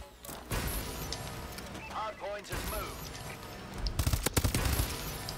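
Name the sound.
gunfire from the video game Call of Duty Advanced Warfare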